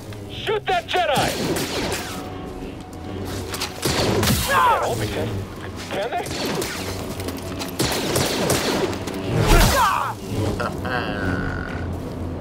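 Blaster fire and combat in Star Wars Jedi: Fallen Order, with dense bursts of shots, booms and grunts throughout, while voices shout over the fighting.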